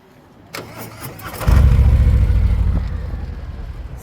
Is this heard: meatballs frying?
no